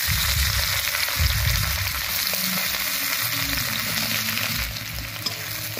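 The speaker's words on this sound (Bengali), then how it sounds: "কড়াইতে দিয়ে দেবো পেঁয়াজ কুচি আর কাঁচা লঙ্কা চেরা।" Chopped onion and slit green chilli fry in mustard oil in a wok, giving a loud, steady sizzle that runs unbroken from start to finish with no talking.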